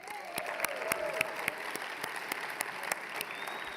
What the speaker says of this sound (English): how about a huge round of applause for Kevin Velo and Nick Ayub of Yellow Brick